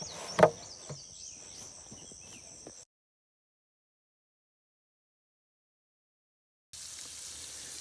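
Water gushes from a hose into a cattle water bucket outdoors with a steady hiss. The flow cuts off into silence partway through, then resumes just as steadily.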